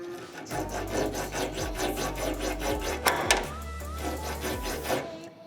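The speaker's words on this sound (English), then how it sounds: "the file cuts into it much easier, and it's making that lower pitch sound that like non-hardened steel makes" A metal file rasps steadily back and forth across the soft, unhardened steel guard of a Damascus bowie knife, each stroke a low, gritty scrape in a quick, even rhythm.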